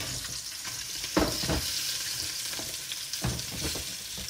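Fish frying in a pan with a steady, moderately loud hiss of hot oil, broken by a few clattering stirs and knocks of utensils against the pan.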